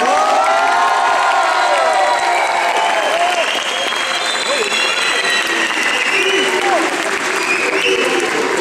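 Audience at a live stage show applauding and cheering loudly, a dense steady wash of clapping with whoops and shouts throughout, lasting the whole stretch with no break.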